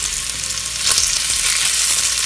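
Pork meatballs and onions searing in a pan with garlic, a loud, continuous close sizzle with a brief stir or shift partway through.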